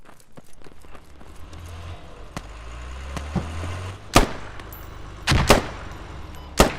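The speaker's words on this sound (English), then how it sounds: "Nice grenade, whoever that was." Gunfire crackles in bursts during a Squad v10 multiplayer firefight, punctuated by several loud, close explosions toward the end, one grenade blast among them, with low rumbling vehicle noise underneath.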